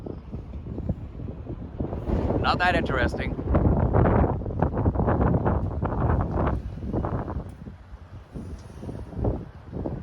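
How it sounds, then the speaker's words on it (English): Strong wind buffets the microphone outdoors in Kumagaya City, northern Saitama Prefecture, Japan, a loud continuous low rumble with gusts under a man's brief speech. "It's really windy out here today"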